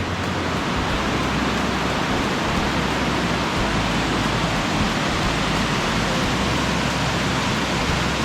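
A snowy creek rushes steadily nearby, producing a continuous, dense wash of flowing water with no pauses and no voices.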